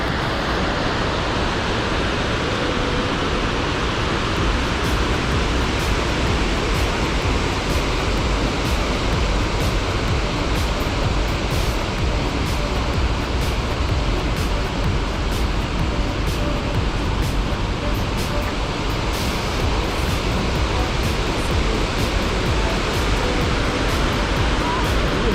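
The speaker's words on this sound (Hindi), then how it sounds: "ये आपके सामने रिवर है।" A river rushes loudly and steadily in a scenic mountain setting near Banff and Lake Louise, its broad, continuous roar of cold water unbroken and close throughout.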